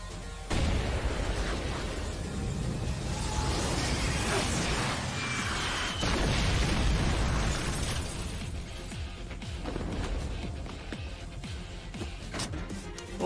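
Rocket launcher explosions in Yakuza 6, a long stretch of dense rumbling blasts and crackling debris that swells and fades across the clip, loud and close, with scattered voices underneath.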